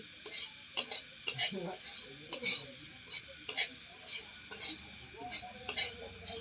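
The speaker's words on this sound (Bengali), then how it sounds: "আমি সুজিটাকে লাল করে ভেজে নেব সুজিটাকে এই যে লাল করে ভেজে নিচ্ছি" Semolina for sweet halwa roasting in a pan as a utensil stirs it, giving repeated short metallic scrapes and clinks in an even rhythm, close and fairly clear against a quiet kitchen background.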